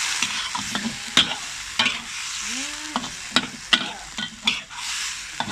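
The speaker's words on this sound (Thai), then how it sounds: "เนี่ยทำไฟอ่อนๆ เลยนะครับ แล้วเราก็คั่วไปเรื่อยๆ" Silkworm pupae are stir-fried slowly over low heat, producing a soft continuous sizzle punctuated by repeated scraping knocks of a spatula against the pan, close and fairly even, with no talking.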